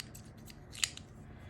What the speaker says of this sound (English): And then scissors